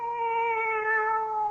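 A cat in a radio mystery drama gives one sustained, close meow, steady and clear with no talk over it.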